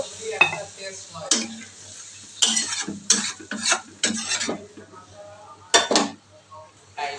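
Water poured into a pan of sizzling fish curry masala, with bursts of loud hissing and spluttering, stirring scrapes and utensil clinks against the pan, close by with no talking.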